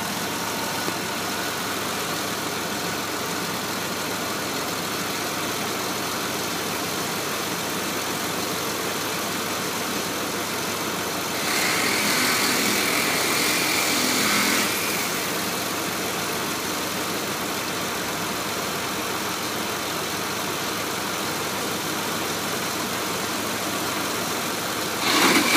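A 2006 Pontiac G6 with a 3.5 litre engine idles steadily and quietly for a long stretch, a low even hum with a brief brighter hiss partway through, and no one speaking.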